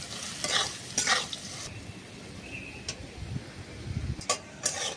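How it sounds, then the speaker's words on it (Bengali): Potato pieces frying in oil with salt and turmeric, a steady low crackle broken by several louder bursts of stirring and scraping, close by and with no voices. "আলুটা কিন্তু এখন আমার ভাজা হয়ে গেছে"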